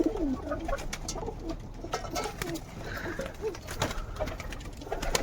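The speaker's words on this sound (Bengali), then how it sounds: "এইটা হচ্ছে আমি নতুন কিনেছি এই পায়রা" Pigeons coo repeatedly in soft, throaty low calls, close by, with scattered clicks and rustling around them.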